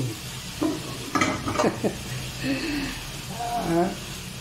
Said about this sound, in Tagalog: Ayos, gisa lang natin yan.